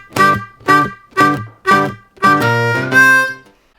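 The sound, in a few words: blues harmonica lick, 2-draw whole step bend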